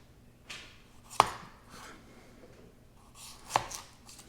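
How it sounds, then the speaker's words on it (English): Knife chopping through pads of butter on a board by a cooking fire, two distinct sharp cuts a couple of seconds apart over soft background noise, close and fairly quiet. "Cut a few pads of butter in tablespoon increments."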